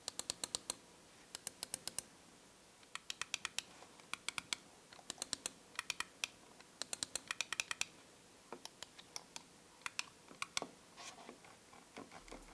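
HyperX Pulsefire Haste 2 Pro and Core wireless gaming mice clicked in turn, crisp close sharp clicks in short rapid bursts of several presses separated by brief pauses, alone without talk.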